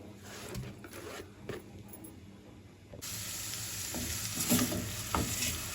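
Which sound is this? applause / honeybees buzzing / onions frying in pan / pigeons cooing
onions frying in pan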